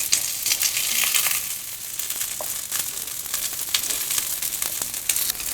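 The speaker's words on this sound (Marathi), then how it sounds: "त्या टिक्की परतल्या जात असताना त्याचा एक सुंदर फ्लेवर येतोय" Corn tikki patties shallow-frying in a pan give a steady, close crackling sizzle with fine popping texture, continuous throughout and without talk.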